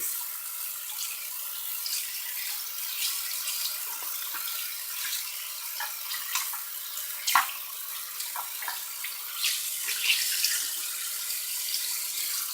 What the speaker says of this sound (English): You want to wash out your washcloth first